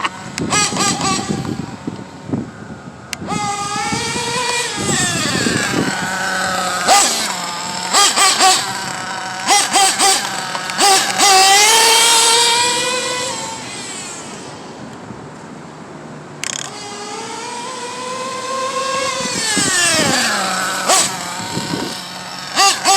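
Nitro engine of a Mugen MBX7 RT RC race truggy screaming at high revs, pitch rising and falling sharply through repeated throttle bursts and braking, loud and close with no talk.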